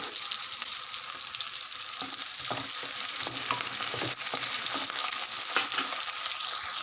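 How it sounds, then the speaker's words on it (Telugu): A large bulb of coarsely crushed garlic and dried red chillies fry in hot oil for amaranth leaf fry, giving a loud, continuous close sizzle with occasional stirring scrapes throughout. "కచ్చాపుచ్చా దంచిపెట్టిన ఒక పెద్ద ఎల్లిగడ్డ ఇలా కాయను వేసుకోవాలి"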